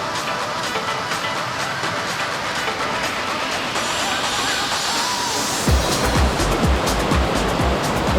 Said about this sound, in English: if you follow the sound of rushing water